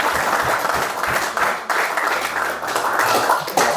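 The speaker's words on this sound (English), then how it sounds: "Should we give them a round of applause?" A crowd at an IPL cricket match breaks into a dense round of applause, steady clapping that holds for several seconds at close range.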